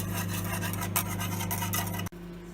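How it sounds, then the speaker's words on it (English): Scraping and rubbing of a whisk stirring low calorie caramel syrup in a pan off the heat, a steady close rasp over a constant low hum, cutting out abruptly near the end. "I'm just whisking away, mixing all those ingredients now."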